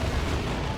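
A grenade goes off in the real-time strategy game Dawn of War 2: Retribution, a loud, dense, rumbling burst that fills the whole short moment with no break.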